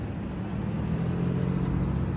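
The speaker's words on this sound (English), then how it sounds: "Look at the traffic." Road traffic rolls past as a steady low engine rumble of cars, fairly close and continuous without a clear break between vehicles.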